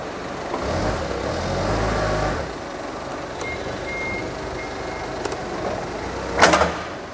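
An imported Toyota 1.5-ton forklift with a 3-metre lift idles steadily up close, its low motor hum swelling briefly as it lifts a load, with a few faint clicks and a short clatter near the end.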